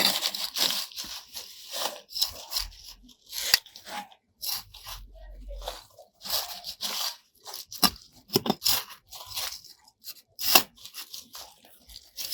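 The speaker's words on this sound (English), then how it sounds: "Let me pull out the weeds." Weeds pulled by hand from a backyard sugarcane bed, a series of close ripping, tearing and crunching bursts from roots and stems, irregular and fairly loud, with brief pauses between pulls.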